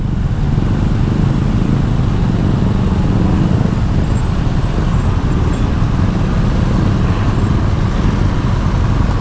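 A dense crowd of motorcycles rumbles while boarding a ferry at Bakauheni port, a loud, unbroken wall of idling and revving engine noise close by, with no single vehicle standing out.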